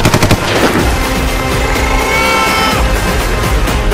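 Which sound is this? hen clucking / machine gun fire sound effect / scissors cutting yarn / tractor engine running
machine gun fire sound effect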